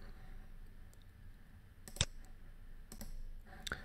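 Computer mouse clicking, a few isolated sharp clicks spaced over a few seconds against a quiet room background.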